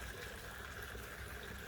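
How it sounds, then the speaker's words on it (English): Water flows down a small backyard pond waterfall driven by a pump, a faint, steady splashing rush with no voices. "you can see the water flowing down here"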